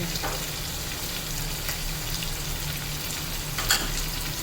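Spices and green chillies frying in oil for Punjabi chicken yakhni pulao, a steady close sizzle and crackle with a small burst of stirring near the end, no voices.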